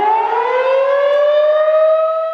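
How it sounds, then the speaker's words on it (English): A loud, steady outdoor emergency warning siren in Saint Paul wailing continuously, its tone rising slowly, heard alone with no voices. "Do you know what it means when you hear an emergency siren?"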